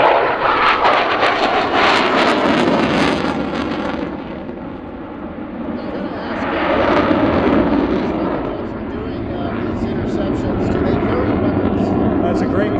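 An F-16 fighter jet flies a NORAD interception demonstration at the Abbotsford Airshow, its engine roaring loudly and continuously and surging as it passes, while an announcer talks over the PA.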